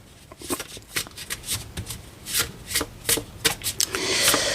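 Tarot cards are shuffled by hand in a run of quick, crisp riffling bursts, close and fairly loud, ending in a longer continuous flutter, with no voice.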